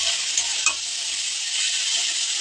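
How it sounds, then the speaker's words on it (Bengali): Bottle gourd peels frying and being stirred in a pan over high flame, a steady bright sizzle with a few soft scrapes of the spatula, close and continuous, no talking. "এই লাউয়ের খোসাগুলো হাই ফ্লেমে দিয়ে একটু নাড়াচাড়া করে জলটা শুকিয়ে নেবেন"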